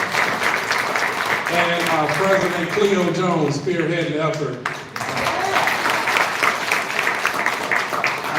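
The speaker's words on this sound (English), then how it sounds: "For everybody, give them a round of applause." Applause from the audience at a village hall board meeting carries on steadily for the whole stretch, while someone speaks over it through the room's amplification.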